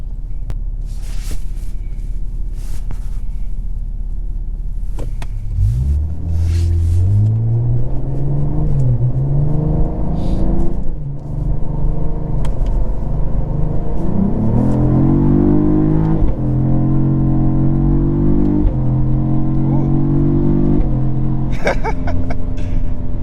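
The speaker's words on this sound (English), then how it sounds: "When it does sense that you will get a little bit more acceleration and you're on it, it will activate so the shifts are even more snappier and quicker." The 2022 Cadillac CT4-V Blackwing revs hard from inside the cabin. Its engine note climbs in strong rising sweeps, broken by quick, snappy upshifts, over a steady low road rumble.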